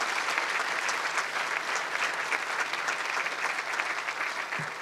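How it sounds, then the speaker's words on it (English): Audience applause at a City Club luncheon talk after a state transportation secretary's remarks, steady dense clapping from a sizeable crowd, even and sustained throughout with no voices over it. "give him a round of applause"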